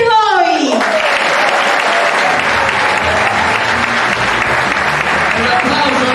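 A large audience bursts into loud, sustained applause that fills the whole stretch, dense clapping with crowd noise, after a brief voice at the start.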